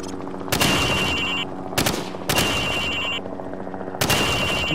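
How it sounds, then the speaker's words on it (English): A rifle in the video game Call of Duty 4 fires from the hip at range targets in four loud, separate bursts of rapid shots, each followed by a brief pause. "Now, shoot at the targets while firing from the hip."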